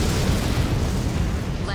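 A destroyed crab enemy in Armored Core: For Answer blows up in a loud, rumbling explosion that sustains a dense low roar throughout the short burst, with a faint radio-like voice at the end.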